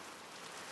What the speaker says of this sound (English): I hope this rain lets up soon